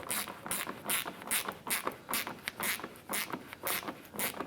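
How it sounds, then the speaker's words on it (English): A 10mm socket ratchet snugs a bolt into a clip on the front bumper of a 2004-2008 Acura TL, giving a steady run of close, rhythmic clicking strokes with no talking. "We're going to use our 10mm socket to go ahead and snug this bolt down to that clip."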